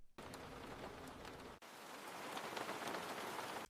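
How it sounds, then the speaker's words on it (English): Heavy rain pours down in a dense, steady hiss of drops hitting surfaces, loud and continuous with one brief dropout partway through, no voices. "Then suddenly, the rain started pouring."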